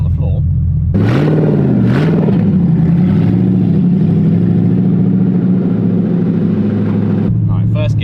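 BMW E36 engine revving in first gear after sitting unused for over three years, a steady mid-pitched drone rising and falling with throttle blips, loud and close, with a voice talking over it.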